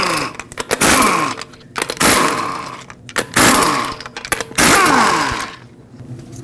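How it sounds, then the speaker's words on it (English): Lug nuts on a 2009-2015 Honda Pilot spun off with a 22mm socket on a power tool: three loud, close buzzing bursts, each a couple of seconds long, separated by short pauses. "use a 22mm socket and remove all 5 lug nuts"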